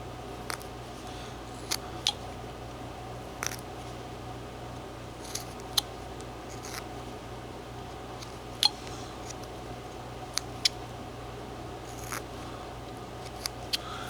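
A whittling knife carves the nose of a small 2 1/2 inch wooden figure from a block: scattered faint clicks and short scrapes at irregular intervals, close by, over a steady low hum.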